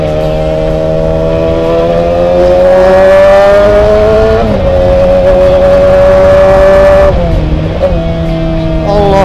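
A Yamaha YZF-R6 sport motorcycle engine runs loud and close, its steady buzzing tone rising and dipping with small throttle changes and brief revs.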